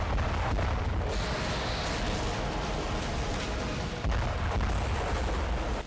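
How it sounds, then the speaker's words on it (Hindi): Bomb and missile explosions strike cities in Ukraine, a dense, roaring wall of rumbling blast noise that stays loud throughout, with a renewed surge near the end. "और एक बार फिर बम और मिसाइलों के शोर से सहम गए यूक्रेन के कई शहर।"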